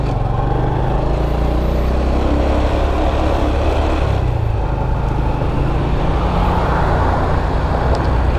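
A car runs on the road between Padang and Bengkulu, heard from a moving motorcycle: a steady, loud rush of engine and road noise mixed with wind buffeting, with no clear break throughout.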